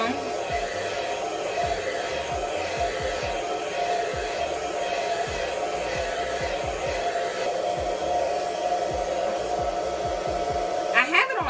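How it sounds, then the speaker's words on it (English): Steady, fairly quiet whirring and rushing of a hand-held blow dryer running on high heat over a hair wig. It holds constant all the way through, and faint talking can be heard underneath it. "Oh, I got a blow dryer."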